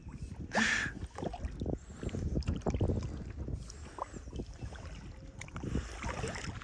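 Kayak on open water in wind, with paddle splashes and water lapping against the hull under gusty wind buffeting the microphone, fairly close.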